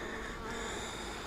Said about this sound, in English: Golly, there's a lot of bees in this hive.